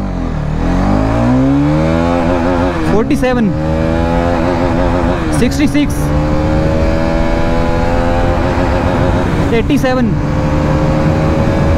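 Hero Karizma XMR 210 motorcycle accelerating hard in first gear, engine note climbing steadily with brief dips between rising revs, loud and close, while a rider talks over it.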